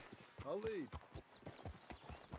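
Horse hooves clip-clopping in the video game Red Dead Redemption 2, a quiet series of regular hoofbeats with a brief whinny early on, with a voice talking.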